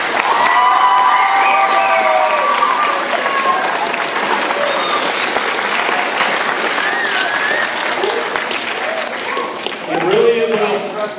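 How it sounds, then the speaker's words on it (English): A crowd at a student awards ceremony gives a long, loud round of applause for the finalists, sustained clapping with scattered cheers and whoops running throughout and swelling briefly near the end. "One more round of applause for our finalists"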